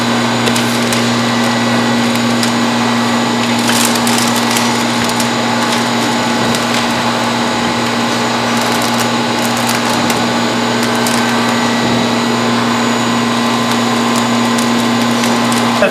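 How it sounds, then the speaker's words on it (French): A soap packaging machine draws plastic film and forms it into a tube, giving a loud, steady mechanical hum with a constant drone and faint rattles, continuous throughout with no talk. "Notre film s'en vient et vient former une espèce de tube dans lequel il va être soudé par en dessous."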